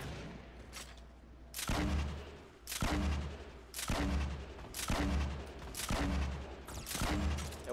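Sniper gunfire in Fortnite Battle Royale: about six loud, sharp shots ring out at regular intervals of roughly a second, each with a booming tail, with no talk over them.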